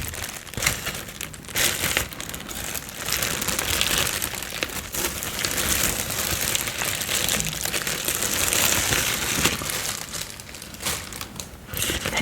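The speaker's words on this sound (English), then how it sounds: "I do have it in a plastic bag, of course" A plastic bag holding cheese crinkles and crackles steadily up close for several seconds, a dense continuous rustle with no voices.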